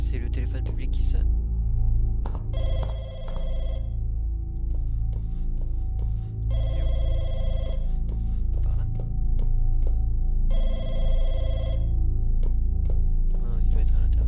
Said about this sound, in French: c'est le téléphone public qui sonne